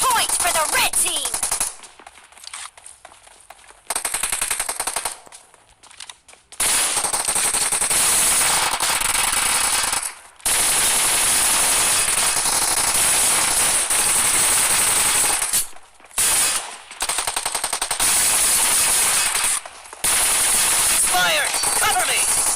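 Rapid automatic gunfire from PUBG Mobile on the Warehouse map comes in long, loud, dense bursts broken by short silent gaps, with game voice lines mixed in.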